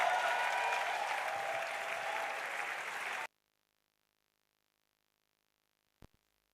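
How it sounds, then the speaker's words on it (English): Audience applause at a live speech event in Nigeria, a dense, steady round of clapping lasting about three seconds before cutting off abruptly into silence. "Round of applause for her."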